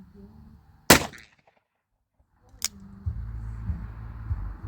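An S&W Model 29 revolver fires a single sharp, loud shot outdoors, followed by a second softer bang, with faint background murmur and a low rumble afterward.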